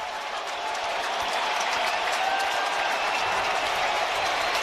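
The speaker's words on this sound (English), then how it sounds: "The crowd going delirious here at the stadium." Stadium crowd roaring at a Red Sox–Yankees MLB wild card baseball game with the bases loaded, a loud, sustained, dense wall of cheering that holds steady without a break.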